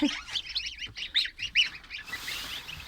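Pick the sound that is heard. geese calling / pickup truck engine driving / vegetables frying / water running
geese calling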